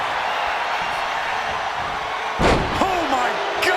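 A single heavy knee-strike impact lands in WWE 2K25 wrestling gameplay: a sharp, loud thud rises from a constant arena crowd roar, followed by brief squeaky noises.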